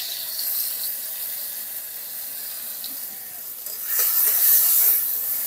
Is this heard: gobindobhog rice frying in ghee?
yes